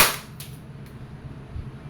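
An E&C airsoft Glock 19X Gen 5 pistol fires a single sharp, close crack right at the start, then falls to a quiet room hum with a couple of faint ticks afterward.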